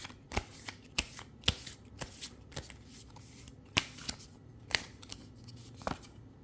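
Tarot cards shuffled by hand in a series of crisp riffling bursts with short pauses between, close and fairly quiet, with no talking.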